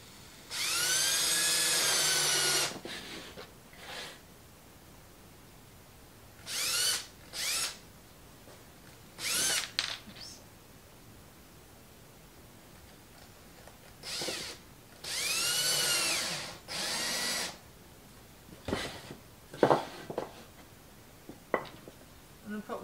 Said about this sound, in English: I'm going to get these screws started